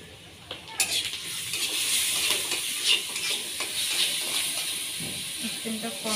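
Chicken and dried fish fry in a pan with spices, giving a steady, close sizzle and hiss with occasional stirring and clinks against the pan, loud and continuous throughout.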